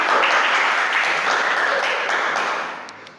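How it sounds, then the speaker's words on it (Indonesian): Classroom applause for a student group after a presentation, in a lesson on shrouding a body: a steady broad wash of clapping from many hands that holds level and fades toward the end. "silakan beri tepuk tangan yang meriah untuk kelompok 3."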